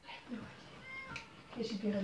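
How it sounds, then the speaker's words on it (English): A house cat meows from behind a door, a couple of short plaintive cries with people talking over and around them. "Yeah, the cat don't like it either."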